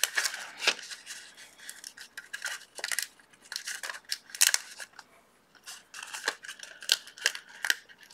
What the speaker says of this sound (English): I'm gonna cut this off where it's supposed to be cut